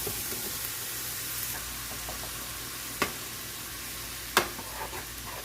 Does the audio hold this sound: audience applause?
no